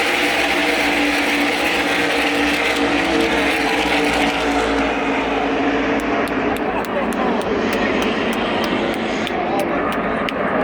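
Pack of NASCAR race cars roaring on a restart at ISM Raceway, a loud, sustained engine drone filling the track with a shifting tone as the field accelerates.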